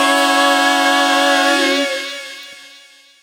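Vocals sent through Vocodex vocoders with saw wave carriers give a dense, buzzy, harmonic chord that holds steady, then fades out over about three seconds, with no talking.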